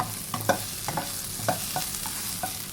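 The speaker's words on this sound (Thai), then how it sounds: "ใช้ไฟกลางๆนะคะ คริกให้หอมเลยนะคะสักแป๊บนึง ผัดไปสักแป๊บนึงนะคะ" Garlic stir-fries in a wok over medium heat for kale with soybean paste and minced pork, with a crackling sizzle broken by quick, rhythmic scraping strokes of the spatula, close and distinct.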